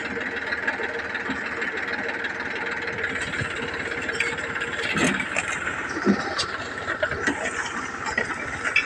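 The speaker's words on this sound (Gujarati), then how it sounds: "તો આ ટ્રેક્ટર ઓરવાનું ચાલુ થઈ ગયું છે" Steady rumble of a tractor engine running nearby while sowing a field, with a few faint clanks and knocks over the drone.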